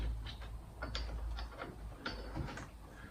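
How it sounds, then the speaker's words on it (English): Metal clicks and ratcheting clatter as a kickstart gear is fitted onto a Suzuki TS400 motorcycle engine in a workshop, close and fairly faint, irregular taps over a few seconds. "Kickstart gear back in place."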